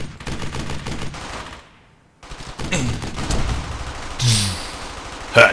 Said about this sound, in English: Open fire, let him have it.